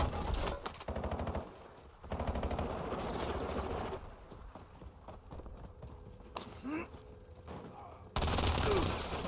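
Rapid automatic gunfire from a weapon in the video game Warzone, loud bursts at the start and end with quieter stretches of shots and movement between, no voices heard.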